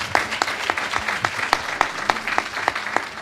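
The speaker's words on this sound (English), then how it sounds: "Let's give our panelists a round of applause." A conference audience applauds panelists, giving a steady round of crisp individual claps in a fairly regular rhythm, moderately loud and close, with no talking over it.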